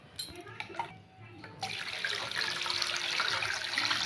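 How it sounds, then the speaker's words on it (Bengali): Potatoes being rinsed in water at a sink: a few light splashes and drips, then a steady rush of running water fills the rest, close and fairly loud, with no talking. "এই যে এটা যতক্ষণ না সাদা হয় ততক্ষণ পর্যন্ত আমরা এটাকে জল দিয়ে পরিষ্কার করব।"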